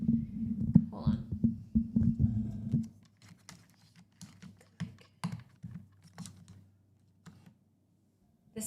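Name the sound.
typing on clicky mechanical keyboard switches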